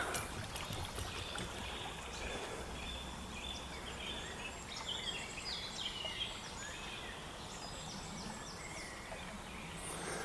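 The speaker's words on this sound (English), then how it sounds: "We listen to some water to chill out. Can you hear that?" Flowing water outdoors: a continuous soft rushing and trickling wash with scattered bird calls above it, steady and moderately quiet throughout, with no voices.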